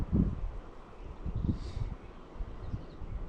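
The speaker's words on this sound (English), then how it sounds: "it's hard to cast in this wind." Gusting wind buffets the microphone beside a river during dry fly fishing, coming as low rumbling bursts of varying strength with no talk.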